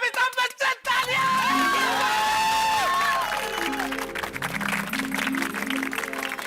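A crowd in a housing society cheers and applauds the arrival of Amitabh Bachchan, with loud shouts and whoops over a swell of music after a few sharp opening bursts, voices mingled throughout.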